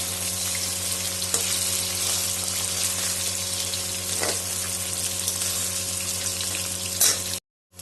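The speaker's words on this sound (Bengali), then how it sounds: "মাছগুলো লাল লাল করে একটু ভাজবো।" Fish frying in hot oil in a pan, a continuous loud sizzle with a steady hum beneath it, ending abruptly near the end.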